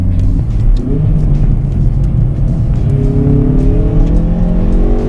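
A Hyundai i30N Performance hot hatch in N mode revs hard with a loud, close engine roar climbing in pitch near 7000 rpm, and sharp exhaust pops crackle over the engine note.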